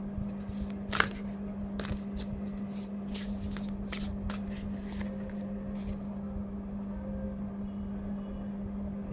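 Tarot cards handled and laid out on a surface, giving soft, scattered slaps and swishes over a steady electrical hum and background hiss.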